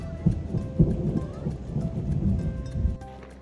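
Rain starting to fall near Lake Agnes in the Canadian Rockies, with low rolling thunder rumbling in several swells under steady patter, fairly close and continuous.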